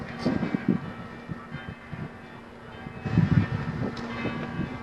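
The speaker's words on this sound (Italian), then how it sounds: "Sono anche le campane. Pure le campane" Church bells ring out in the distance, their tolling blending with a low rumble and muffled background noise, with stronger strikes near the end.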